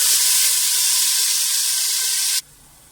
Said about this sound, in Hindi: इस मसाले को हमने 5 मिनट तक बहुत अच्छी तरीके से भूनना है।